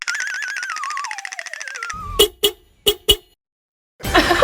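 A tour bus horn honks a few times in short bursts after a stretch of warbling, sliding tones; the horn blasts are loud and close, followed by some engine rumble.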